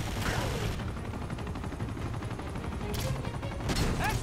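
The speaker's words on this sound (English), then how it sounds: "I'm just firing for no reason" Rapid bursts of gunfire from the video game Uncharted 2, with dense automatic shots and sharp reports rolling on steadily, loud and close, with a couple of sharper bursts near the end.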